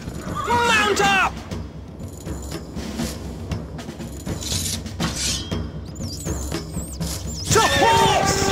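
Horses whinny loudly in a Stronghold Crusader battle, with rising and falling neighs at the start and again near the end over a dense, steady clatter of hooves and battlefield noise.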